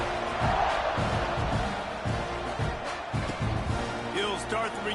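A stadium crowd in a football video game roars steadily beneath a commentator's continuous voice, the cheering a dense, constant wash with occasional swells.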